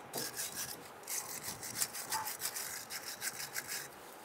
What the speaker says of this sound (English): I'm going to use my brass bristle brush and clean up around the top here. I'm going to take off any scaly rust.